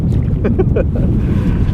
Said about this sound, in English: What a windy day it's been.